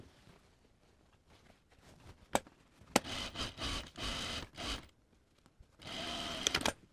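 Bursts of a sewing machine stitching the underarm seam of a two-piece sleeve at full seam allowance, several runs of steady whirring separated by pauses, with a few sharp clicks in between, close and fairly quiet.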